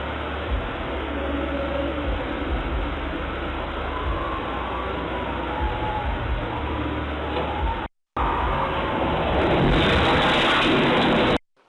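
Heavy monsoon rain pours down steadily in Mangaluru, a dense continuous hiss with a short break near the end before the downpour resumes even louder.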